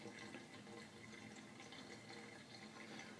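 Water trickles steadily into a filling aquarium sump as the level nears the top, a soft continuous splashing and gurgling flow heard alone without voices.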